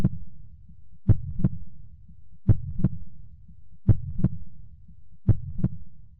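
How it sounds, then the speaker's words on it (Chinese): Heartbeat sound effect in a horror story, a steady lub-dub pulse repeating about every 1.4 seconds, each beat a pair of thumps over a low continuous rumble, clear and alone without speech. "我感到心跳加速"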